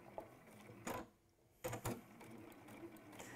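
A sewing machine runs in short bursts of a couple of stitches each, close and mechanical, with quiet gaps between the runs.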